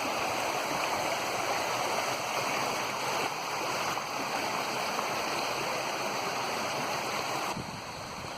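Thick, muddy brown runoff water pouring from an inlet into a lake, heard as a steady broad rushing and gurgling flow, close and constant with no voices.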